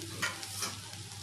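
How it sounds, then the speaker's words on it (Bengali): Food frying gently in a pan over a low flame, a soft crackling sizzle with a couple of brief stirring scrapes, fairly quiet and close. "একদম হালকা লো ফ্লেমে এটা কিছুক্ষণ ভাজা হবে"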